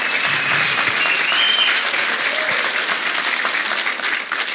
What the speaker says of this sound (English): let's clap hands for Jesus